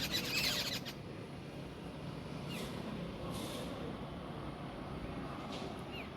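Small brown hill birds chirp in a tree, with a quick burst of bright calls at the start followed by faint, scattered chirps over quiet outdoor background.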